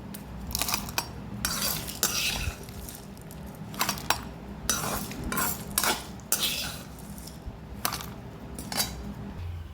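A metal spoon scrapes and clinks against a pan and mixer jar as a cooked mixture for tamarind rice is transferred, with repeated sharp taps and scrapes at close range.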